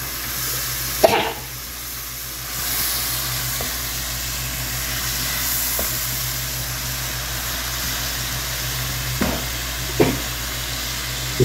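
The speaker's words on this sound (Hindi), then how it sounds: "ये सब जरा सा हल्का सा फ्राई होने के बाद" Ingredients for shakshuka fry gently in a pan with a steady, quiet sizzle throughout, broken by a few faint clicks and knocks of utensils.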